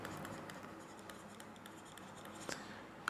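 A pen writes numbers on paper, a faint, close scratching with short strokes and taps in a quiet room.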